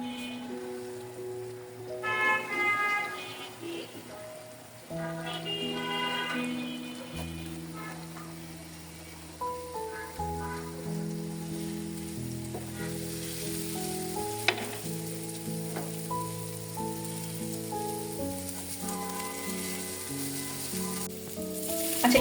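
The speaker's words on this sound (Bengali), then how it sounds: "এই পাশে আমি একটু আস্ত রসুনের কোয়াগুলা একই সাথে আমি ভাজবো তেলের মধ্যে" Whole garlic cloves and tomatoes fry in a small amount of mustard oil for a tomato and radish bharta, with a soft continuous sizzle under melodic background music.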